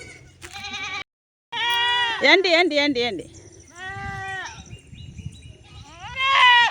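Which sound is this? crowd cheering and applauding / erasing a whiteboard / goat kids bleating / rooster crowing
goat kids bleating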